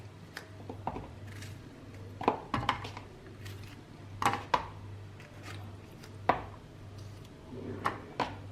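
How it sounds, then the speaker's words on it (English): A knife chops green chilies, ginger and tomatoes on a board for a Naga smoked pork and brinjal dish, with irregular sharp close taps spaced a second or so apart over a low steady hum. "Green chilies, ginger and tomatoes, will chop it."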